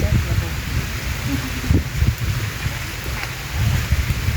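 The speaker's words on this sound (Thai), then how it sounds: "ฝนตก" Rain falls steadily outdoors in rural Thailand while thunder rumbles low and intermittently underneath, with faint voices in the background.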